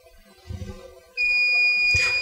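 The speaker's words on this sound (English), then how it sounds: "So now you can just hear the sound as we just set up the buzzer alarm." After a brief muffled knock, a PoE camera's motion-detection buzzer alarm sounds, a piercing, loud continuous high tone that holds steady to the end.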